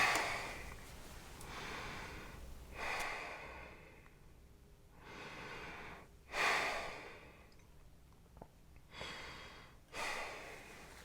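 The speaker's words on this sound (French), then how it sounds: "pour enlever l'excès de muqueuse et je vais respirer" Nasal breathing follows the clearing of excess mucus from the nose: slow, close inhales and exhales through the nose with a few sharper sniffs and snort-like puffs, heard alone in a quiet room.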